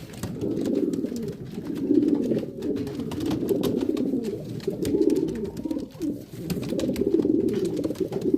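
Homing pigeons cooing in a loft, several birds making overlapping low throaty coos and rolling calls that continue throughout at close range, with light rustling above them.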